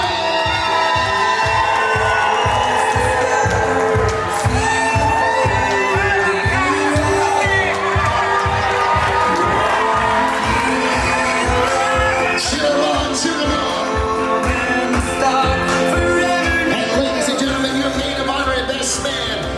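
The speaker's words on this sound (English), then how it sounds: "make some noise for the two bridesmaids and groomsmen, Tanika, Damaris, and Malachi" Wedding guests cheer, whoop and shout for the bridesmaids and groomsmen in a loud, continuous crowd roar, mixed with a steady thumping beat and voices calling out over it.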